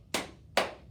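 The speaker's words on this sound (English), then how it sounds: "Let's see if we can do clapping." Two sharp claps, about half a second apart, ring out at a library story time, crisp and close with nothing else heard.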